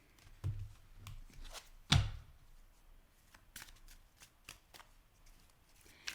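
Tarot cards are shuffled in short, soft riffling bursts, with one sharper rustle near the start and lighter flicks afterward, quiet and close.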